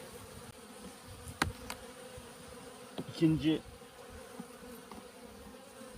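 Honey bees swarm densely over hive frames during a midwinter hive reduction, a steady close buzz running throughout, with brief handling knocks and a short spoken word partway through.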